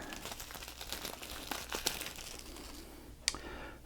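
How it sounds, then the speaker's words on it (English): Cardboard packaging of a Curse of Strahd Revamped board game box being cut and pulled open, a close crinkling and tearing with a sharp snap near the end, no talking. "Cut this open."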